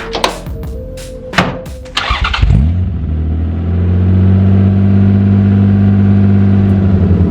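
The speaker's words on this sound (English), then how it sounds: "Let's give it a nice cold start." A few clicks and a starter cranking, then the V6 engine of a swapped Toyota MR2 fires up loudly from cold and settles into a steady, deep idle rumble.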